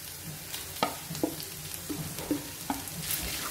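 Pork momo stuffing frying in a pan, a steady sizzle with several distinct scraping knocks of a spatula stirring at irregular intervals, close up with no talking.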